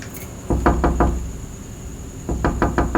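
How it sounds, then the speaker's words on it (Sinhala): Knocking on a door: two separate bursts of three to four sharp raps, close and clear, with a short pause between them over a quiet room background. "කවුද එකේ දොරට තට්ටු කරනවා?"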